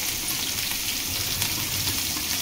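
Green chillies, garlic and grated ginger sizzle in hot oil with cumin while a malai pyaaz sabzi is cooked, giving a steady, close, crackling fry noise with no voices.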